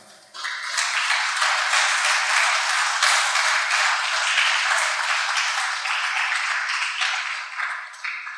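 A Spanish-speaking church congregation gives a long, dense round of applause that rises quickly and holds steady and full for several seconds before easing slightly.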